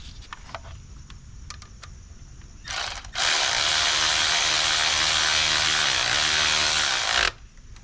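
Ratchet wrench tightening a bolt on a Dodge Sprinter van, first a few scattered clicks, then a loud, steady, continuous run of rapid ratcheting close by that stops abruptly, with no talking.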